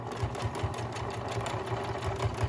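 Sewing machine stitching down the corner of a homemade fabric face mask, a steady close mechanical whirr with a fast regular needle rhythm throughout.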